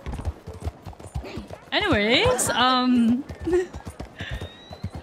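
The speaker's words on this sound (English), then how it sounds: "What are you doing, horse? Calm down." A horse in Red Dead Redemption II neighs loudly with a long, wavering whinny over steady clip-clopping hooves, while someone talks briefly at the start.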